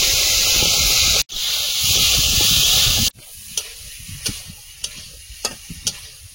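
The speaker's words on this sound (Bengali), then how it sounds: "চিংড়িটা ভেজে নেব।" Shrimp fry in a hot pan with a loud, dense sizzle for about three seconds. The hiss then drops to a quieter crackle, broken by several sharp clicks and scrapes of stirring.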